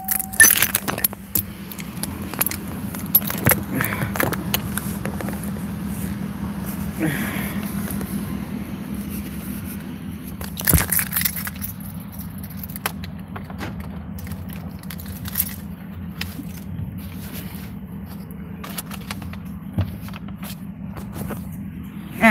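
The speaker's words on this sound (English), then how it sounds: "Might help if I take my keys out." Keys jangle close by as they are pulled out in a car, bright metallic rattles clustered at the start and again midway, over a steady low engine hum and faint movement.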